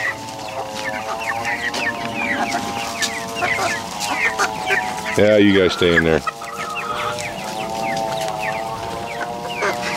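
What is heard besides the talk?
chickens clucking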